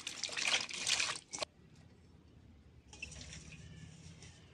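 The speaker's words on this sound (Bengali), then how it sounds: "উচ্ছেটা ধুয়ে নিচ্ছি।" Water splashes and trickles as bitter gourd is rinsed by hand in a home kitchen, two bursts of running water separated by a quieter gap with faint drips, close and unaccompanied by talk.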